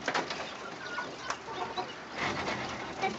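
Caged quail kept in a high-rise apartment in New York cluck and chatter in a busy, overlapping jumble, close to the listener and continuous throughout.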